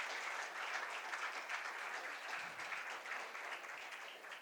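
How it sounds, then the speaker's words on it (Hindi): An audience in a lecture hall gives a sustained round of applause to welcome a lecturer, a steady, even wash of clapping, fairly faint and distant with no talk over it. "तालियों के साथ एक बार फिर स्वागत करते हैं डॉक्टर सोमा घोष जी का।"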